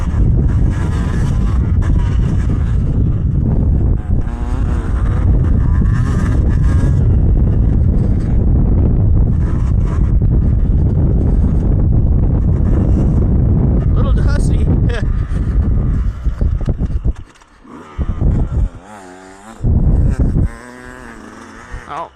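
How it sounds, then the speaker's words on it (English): Beta two-stroke dirt bike ridden on a test day, a loud buzzing engine roar dominating for most of the stretch with wind buffeting, then dropping off to choppier revving near the end. "let's get a little two-stroke action here."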